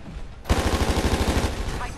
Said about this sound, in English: Had to pull out the pistol.